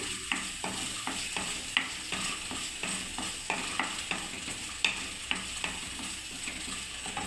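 Spices fry in oil for a mixed vegetable curry, a constant close sizzle marked by regular scraping stir strokes about every half second, with no voices.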